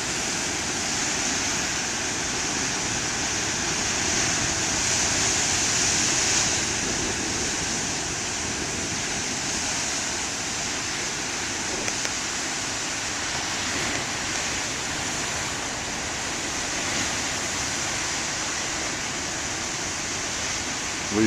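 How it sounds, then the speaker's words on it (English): Huge ocean waves pound the shore in a steady, roaring wash of surf with no clear breaks, loud and continuous throughout, no voices. "Believe you me, the waves are a lot bigger than they appear on video."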